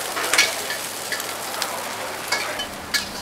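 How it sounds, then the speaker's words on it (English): Prawns sear in hot oil in a wok for Penang char kuey teow, giving a steady close sizzle with a few sharper crackles and pops scattered through it, no voices. "Let the prawns sear on one side and then flip over to pan fry the other side"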